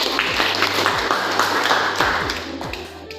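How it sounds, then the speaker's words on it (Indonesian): Classroom clapping after a group presentation in a teacher-training lesson, scattered hand claps mixed with a few louder thumps and taps, moderately near, fading toward the end. "Berikan tepuk tangan."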